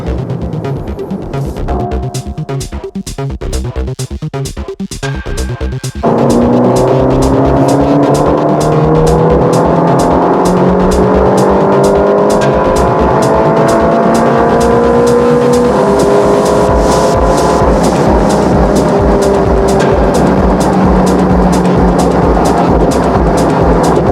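A Ferrari Roma accelerates hard from close by, its engine note climbing sharply in pitch before dropping at each quick gear shift, repeating in loud, sustained sweeps with no talking.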